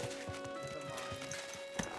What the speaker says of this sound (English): Here's our horsey.